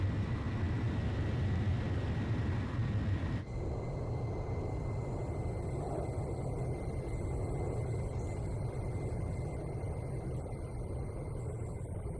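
Fighter jet taking off in Ace Combat Zero: The Belkan War, heard as a loud, steady engine roar with a low rumble that shifts to a higher, brighter whine partway through and holds, continuous with no talk.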